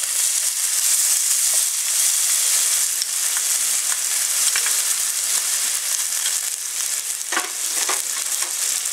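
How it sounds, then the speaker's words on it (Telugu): Onions frying in a pan with chopped tomato going in, a steady loud sizzle and hiss throughout with a few brief stirring scrapes near the end, no voices. "దీంట్లో మనం కొంచెం చాప్ చేసిన టమాటా వేద్దాం"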